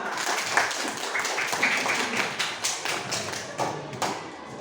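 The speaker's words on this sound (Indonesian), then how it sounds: "Tepuk tangan untuk kita semua." Schoolchildren in a classroom clap their hands together in a quick, steady patter of sharp taps that carries on for several seconds at moderate loudness, with no talking over it.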